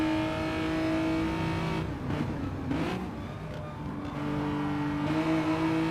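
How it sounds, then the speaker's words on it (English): A Hyundai GT4 race car in a sim racing game drones steadily up close, its engine note holding a tonal pitch that dips mid-clip and then climbs back, with no talking. "let's have a listen to this beautiful Hyundai."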